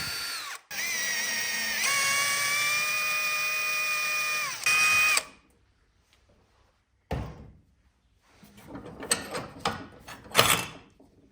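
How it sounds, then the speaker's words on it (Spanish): A power drill whines steadily for several seconds as it bores a hole through metal for an M8 thread, then stops; clanks and scraping of tools follow in a quieter workshop. "Vamos a marcar otro agujero que taladraremos y roscaremos a métrica 8."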